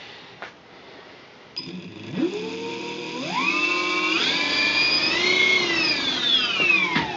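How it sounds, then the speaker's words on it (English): A rewound Revolt RV-160-SH electric motor spins up, its whine climbing in steps to a high pitch before easing slightly. It hums steadily and close with no one talking. "But there's the motor."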